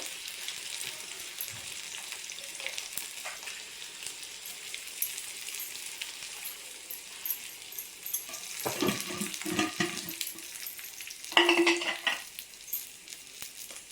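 Garlic sizzles steadily in hot oil in a pan while a Telugu dish of ponaganti leaves and toor dal is cooked, with stirring and clattering bursts near the end and no talking.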